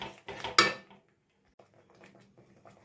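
Masala stirred with yogurt and sugar in a pan for an oil-free green egg curry, a few close clanks and scrapes of a spoon against the pan, then a pause and softer light stirring.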